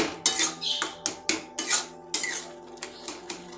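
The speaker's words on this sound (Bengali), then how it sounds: "যে দলাগুলো হয়ে গেছে সেগুলো আমি ভালোভাবে মিশিয়ে নেব। একটু চাপ দিয়ে মিশিয়ে নিচ্ছি।" Cooked semolina being pressed and stirred in a pan, giving a run of close, sharp spoon scrapes and clinks against the metal at an uneven, working rhythm, with no voices.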